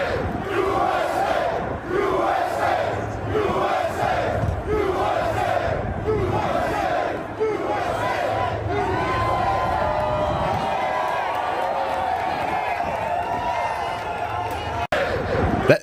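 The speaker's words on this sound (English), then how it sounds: "Show me Biden's crowd doing this." A large rally crowd chants in loud, rhythmic unison, repeated shouted phrases rising and falling over a dense roar of many voices throughout.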